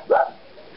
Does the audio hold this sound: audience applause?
no